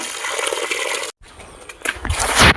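A loud rush of gushing water, briefly cut off, then surging back stronger and splashing onto banana plants.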